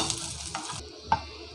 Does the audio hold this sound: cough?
no